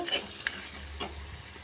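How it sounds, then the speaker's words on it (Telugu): Chicken pieces frying in a pan for a Telugu-style chicken fry, with a steady close sizzle and a couple of brief stirring scrapes, no voices. "చికెన్ కర్రీ ఫ్రై లాగానే చేస్తున్నాను"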